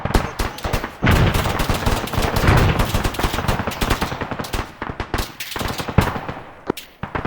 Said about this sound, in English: We're not the mad minute. Stop shooting.